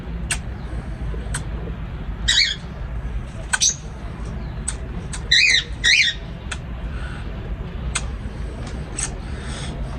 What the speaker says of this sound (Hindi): ये तोती कश्मीरी